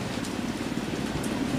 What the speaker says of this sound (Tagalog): ngayon nga lang umuulan na naman dito sa lungsod ng Balanga